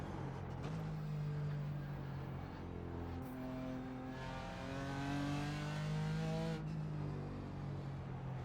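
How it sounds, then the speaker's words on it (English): BMW M4 GT4 race car engine in a racing simulator game, a crisp, steady engine drone rising in pitch through repeated acceleration runs with shifts between them, continuous and moderately loud with no talk. "The engine note's nice, it's crisp."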